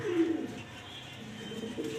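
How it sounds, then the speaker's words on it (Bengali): A pigeon coos softly in a loft housing grizzle-colored male and female birds, a brief low call near the start and another faint one near the end against a quiet room. "মাদি কবুতর, নর কবুতর দেখতে পাচ্ছেন"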